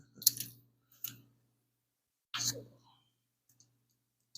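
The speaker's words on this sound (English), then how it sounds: "I'm gonna cut my wire loom off here for now. We'll cut the wires." Wire cutters snip through the wires of a car wire loom in the engine bay of a Hemi Plymouth Duster, a few sharp close clicks and crunches spaced out with quiet between, with faint breathy sounds.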